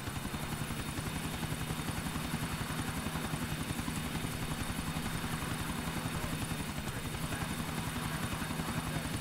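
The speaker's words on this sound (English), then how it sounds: "This is going to be quite interesting, taking a helicopter to police calls." A helicopter in Grand Theft Auto IV flies, its rotor thumping in a steady, fast rhythm under a continuous engine whine, loud and unchanging throughout.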